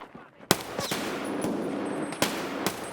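Sharp, loud gunshots in the shooter game Escape From Tarkov, a few separate cracks spaced irregularly over a quiet background.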